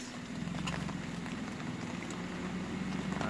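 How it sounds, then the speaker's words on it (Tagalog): Light drizzle falls steadily, a soft continuous hiss of fine raindrops with scattered faint ticks, even and unbroken, with no voices. "Hanggang ngayon mahina pa rin yung ambon."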